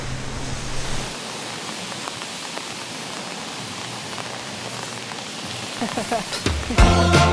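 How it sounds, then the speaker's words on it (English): Steady rain falls at a park, a dense even hiss holding throughout, with some brief rustles and faint voice-like sounds near the end. "I'm sorry it's raining, but we can still stay as long as you want, okay?"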